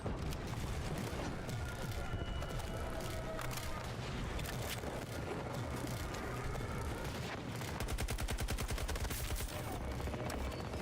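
Battlefield 2042 gunfire crackles in dense bursts throughout, with rapid automatic fire building to a sharp, fast rattle near the end.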